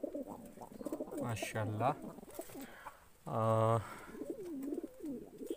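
Pigeons coo in a home loft, with a short deep coo followed by a longer, louder rolling coo close by, and someone speaks softly between the calls.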